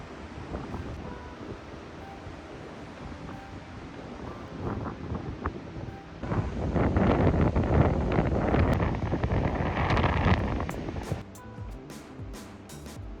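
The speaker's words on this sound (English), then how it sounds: "Imagine hearing the waves while sipping your morning coffee" Ocean waves rush and break below a Cape Town penthouse terrace, a broad wash that swells louder midway, then eases, mixed with wind buffeting the microphone.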